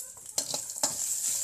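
Onions frying with turmeric for kanda poha, stirred in a pan, a steady sizzle broken by a few sharp spatula scrapes, close and clear, with no talk.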